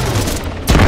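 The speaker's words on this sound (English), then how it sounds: "Explosion killed me." Video game explosion during a firefight: a sudden loud low boom bursts in near the end of a short stretch of steady game noise.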